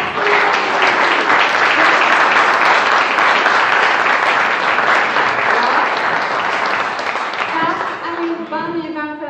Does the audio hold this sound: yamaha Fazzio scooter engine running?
no